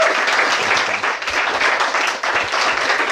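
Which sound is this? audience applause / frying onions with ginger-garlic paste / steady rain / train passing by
audience applause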